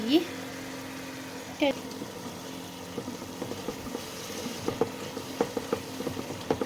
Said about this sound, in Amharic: ቲማቲሙን እንደዚህ እናቁላለዋለን።